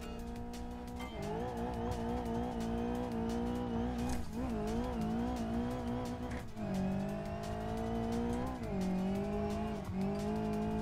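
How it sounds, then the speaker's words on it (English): A turbocharged Ibishu Covet racing in the BeamNG video game, its engine whining loudly with rising pitch sweeps between shifts, sharp dips as gears change and tyre squeal, with no talk over it. "It's turbocharged, so when the turbo kicks in, it goes absolutely bonkers."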